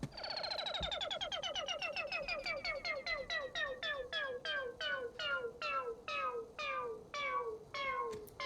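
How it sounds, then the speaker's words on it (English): A modified ARP 2600 synthesizer preset called Chance Wheel plays a rapid chain of bright, chirping sweeps that repeat steadily, with the pitch drifting downward. The tones are quirky and cat-like and sound close and loud, with no voice over them. "is an ARP 2600 preset called Chance Wheel."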